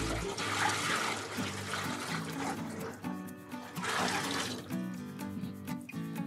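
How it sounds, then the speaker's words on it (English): Dye bath liquid poured from a container into a wheelbarrow, a steady splashing and gurgling stream with swelling surges, fairly faint and continuous for several seconds. "I'm gonna go ahead and pour it into the wheelbarrow"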